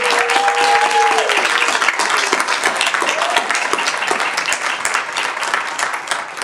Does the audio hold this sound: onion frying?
no